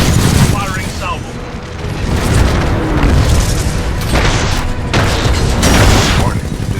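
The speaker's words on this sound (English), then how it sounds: "Firing salvo." Titan firing a missile salvo in Titanfall 2, a loud stream of booming launches and blasts with bright bursts repeating every second or so, thick low rumble underneath.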